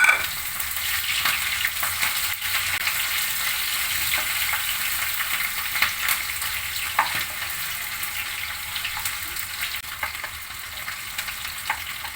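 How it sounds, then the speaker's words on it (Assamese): Onions and green chillies sizzle steadily in hot oil in a home kitchen pan while bitter cane shoots and eggs are cooked, a continuous close frying hiss with occasional stirring scrapes and no talk. "পিয়াজখিনি ভালকৈ ভাজি লৈছো"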